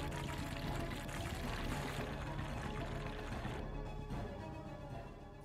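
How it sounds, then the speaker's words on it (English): Pouring sound effect from the Iron Chef America Supreme Cuisine cooking game on Wii, a steady loud liquid pour running for several seconds before easing off, with no talk over it. "Pour!"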